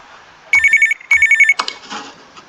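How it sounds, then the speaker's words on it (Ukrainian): A telephone ringtone in the video game Feed Me Billy rings in two loud, bright electronic bursts, each about half a second long, followed by a short stretch of rustling noise. "Телефон."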